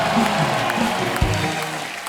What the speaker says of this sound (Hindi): इसके लिए जोरदार ताली हो जाए